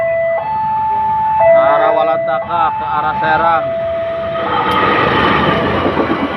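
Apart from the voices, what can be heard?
train passing a railway level crossing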